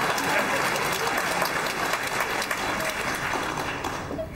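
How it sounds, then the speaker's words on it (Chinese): Audience at a live Chinese xiangsheng comedy show on Peking opera applauding, steady dense clapping that fills the room throughout and eases slightly at the end. "掌声再热烈更好啊！"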